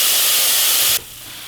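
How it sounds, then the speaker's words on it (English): Beef searing in a hot pan for a beef stew, a loud close hissing sizzle that abruptly drops to a much quieter, softer sizzle about two-thirds of the way through. "you got a good sear going on. You really want to sear your meat"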